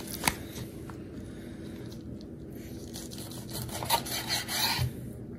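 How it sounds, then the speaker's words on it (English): A knife slicing through raw beef liver that was rinsed and soaked in baking soda, heard as soft, continuous wet rasping cuts with a few sharper strokes, close and fairly quiet with no talk. "So I'm just slicing them."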